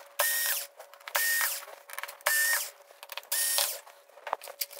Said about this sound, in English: So, let's get these screws out.